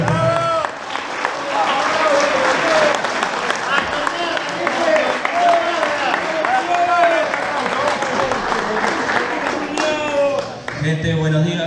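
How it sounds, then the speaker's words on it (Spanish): A crowd at a motorcycle and travel club's fifth anniversary celebration claps and cheers in sustained applause for several seconds, with voices calling out over the clapping before a speaker begins. "¡Bravo! Así que un gran aplauso."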